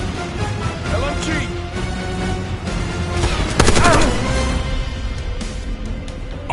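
Light machine gun fire in Call of Duty Black Ops 6, rapid bursts and sharp cracks mixed with game effects and voices talking, loud and close with a dense flurry around the middle.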